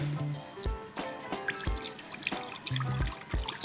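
Vinegar being poured to make a pickling liquor, heard as close trickling and splashing liquid with irregular drips and small clunks, fairly quiet and without talk.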